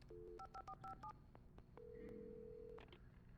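A telephone being dialed in a video game: a quick run of keypad tones, then a long steady tone and faint clicks over a quiet room hum.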